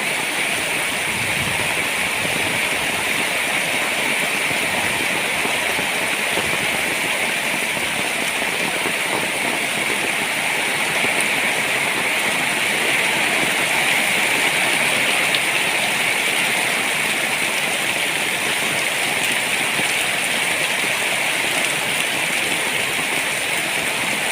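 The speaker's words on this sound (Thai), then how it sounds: "อาบน้ำกลางสายฝนนะคะวันนี้" Heavy rain falls in a steady, dense roar that stays loud and unbroken throughout, with no clear talk over it.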